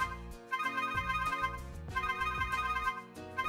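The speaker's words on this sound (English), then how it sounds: "all my destinations are ringing at the same time" Several telephones on a 2N parallel calling setup ring at once, their electronic ringtones overlapping in a bright, repeating pattern that pulses continuously.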